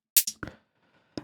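A hi-hat one-shot sample fires from a MIDI sampler in short, crisp hits, a few quick strikes and then one more after a gap, dry and close.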